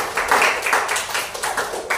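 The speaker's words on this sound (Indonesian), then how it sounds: "beri tepuk tangan terlebih dahulu" A classroom of students gives a group a round of applause, with loose, fairly close hand claps that rise and fall in short uneven bursts with no talking.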